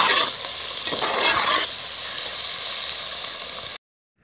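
Potato and fenugreek leaves (aloo methi) fry in a pan with a steady, close sizzle and a brief stirring scrape, ending abruptly.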